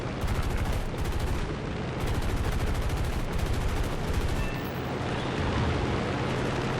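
Sustained rapid P-47 Thunderbolt machine gun fire in a flight sim combat game, a loud dense rattle in bursts over a constant engine roar, with no talk.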